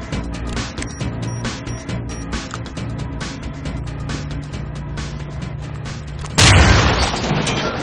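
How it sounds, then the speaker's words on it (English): A breaching charge detonates in the tactical shooter Swat 4, a loud sudden boom erupting late after several seconds of quiet ambient game sound, with a dense blast tail continuing to the end. "Prepare for detonation."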